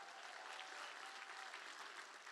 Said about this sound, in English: Can we get a big round of applause for those generous gifts?